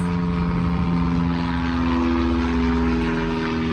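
A propeller airplane drones overhead near an airport, a steady low engine hum with a buzzing tone, continuous and fairly close.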